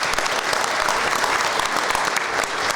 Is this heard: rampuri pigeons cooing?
no